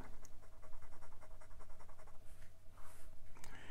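A Wing Sung 629 fountain pen with a fine No. 6 steel nib writes on paper in quick, rhythmic scratchy strokes, close and faint, with only light feedback.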